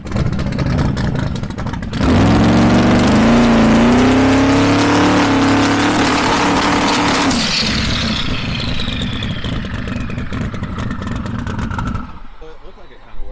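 A car engine cranks and catches after about two seconds, then revs hard with a rising, strained roar that climbs in pitch. It eases off into a softer high whine and a lower rumble before cutting out, loud and close.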